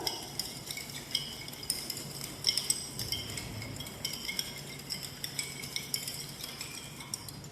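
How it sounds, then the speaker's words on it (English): A spoon stirring a sugar and yeast mixture in water in a bowl, giving a steady run of small clinks and scrapes against the bowl, close and continuous, with no voices. "We will mix it well, stir it well to mix the sugar."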